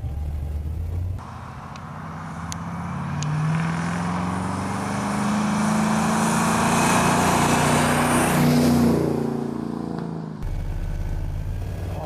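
The Lawrie Special pickup truck, fitted with a large air ram, gives a loud, sustained engine roar heard from inside. The pitch climbs steadily as it revs up over several seconds, then cuts off abruptly near the end.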